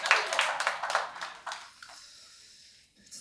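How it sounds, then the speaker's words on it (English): Comedy club crowd at Gaslight Comedy in Pittsburgh breaks into clapping, a burst of close, crisp hand claps that thins out after about a second and a half and dwindles to a few stray claps and near quiet. "clap it up if you have bad tattoos"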